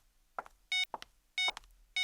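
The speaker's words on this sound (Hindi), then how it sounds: "नितिन फोन क्यों नहीं उठा रहा है?" Repeated electronic phone tones from an unanswered call sound as three short, bright beeps at a steady interval, separated by brief clicks and rustles, close and clear with no talking.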